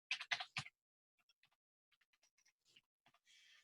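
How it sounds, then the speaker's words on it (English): Quiet keyboard typing: a few louder clacks at first, then soft scattered key taps in an uneven rhythm, close by in a silent room. "you may have heard me typing"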